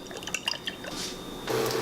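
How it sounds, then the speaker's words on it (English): A short, quiet pour of olive oil, with faint dripping and a soft splash at the end as the oil meets the pan. "into this pan here, I'm going to pour in olive oil again"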